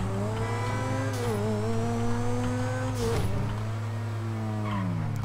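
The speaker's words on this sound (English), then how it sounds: "I reckon this car sounds well nice" A car engine in the PC version of GTA V hums steadily while its pitch rises and falls with throttle, with a brief tire-like squeal near the middle and no talking.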